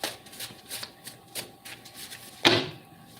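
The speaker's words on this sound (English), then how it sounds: "2 more shuffles." Tarot cards are shuffled by hand in quick bursts of papery riffling, several short flurries followed by one louder, sharper shuffle near the end, all fairly close with no talk.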